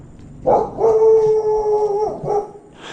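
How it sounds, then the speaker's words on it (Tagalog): A dog lets out a long, wavering howl close by, holding the tone for over a second before trailing off with a short yelp. "Madilim, may aso."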